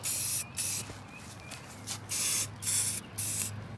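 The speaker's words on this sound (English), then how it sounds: "We're going to roll the wheels outside, wash them off, and shoot a coat of paint on." Gloss black spray paint applied to off-road lawn mower wheels outdoors: several short hissing bursts from an aerosol can, close and fairly loud, separated by brief pauses.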